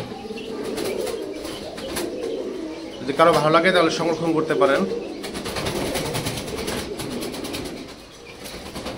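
Soft cooing from a pair of Gorra racer pigeons carries on throughout, with scattered chirps and a burst of wing flutter partway through, all under someone talking.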